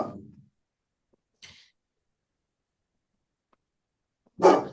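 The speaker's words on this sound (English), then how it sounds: "she barks so loud it makes the drum on the wall echo" A dog barks loudly indoors, two separate bursts with a faint, short yelp between them, and a quiet room around them.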